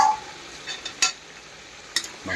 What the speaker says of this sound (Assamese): মাংস ভাজা আলু দিছোঁ তো পুৰা ধুনীয়াকৈ ভাজি আছোঁ আলুৰ লগত